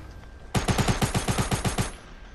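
Rapid automatic gunfire in a Fortnite match, about a dozen evenly spaced shots in a quick burst lasting under two seconds, loud and close with no talking.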